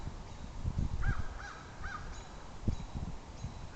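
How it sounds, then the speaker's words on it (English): Sandhill cranes call outdoors, with several rolling, bugling calls at moderate distance among other wildlife sounds and low background rumble. "sand cranes."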